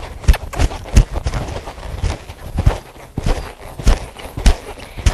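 A young colt loping around an arena during daily exercise, its hoofbeats thudding in a steady three-beat rhythm at close range, with no talk over them.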